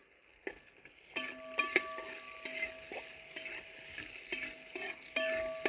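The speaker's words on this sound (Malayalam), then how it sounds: "ഒരു 3 സബോളയും കൂടെ അരിഞ്ഞിട്ടുള്ളത് അതുകൊണ്ട് ഇത് ചേർത്ത് കൊടുക്കാം." Three sliced onions are stirred into pork frying in a pan for a Kerala-style pork fry. A soft sizzle runs underneath while a spatula clanks and scrapes against the pan in repeated sharp, ringing strikes.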